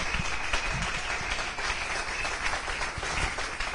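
A church congregation applauds during a consecration service, producing dense, continuous clapping that stays loud and even from start to finish.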